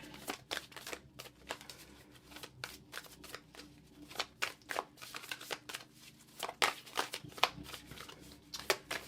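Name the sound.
shuffling cards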